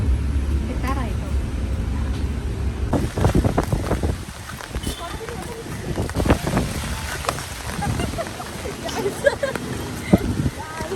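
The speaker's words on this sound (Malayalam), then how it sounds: "മഴയും കാറ്റും." Rain and wind sweep outdoors as a steady, loud broadband roar throughout, with gusty swells and a faint voice briefly in the mix.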